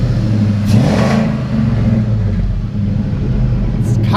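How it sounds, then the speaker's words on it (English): A Ford Mustang Fox body notchback engine revs loud and close, with a deep rumbling growl that swells and eases over several seconds. "rev it up some more."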